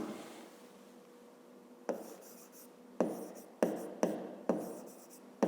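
A pen scratches out the answer to a fifth-grade math exercise: after a quiet stretch, a series of crisp, close writing strokes comes in short bursts, several in quick succession.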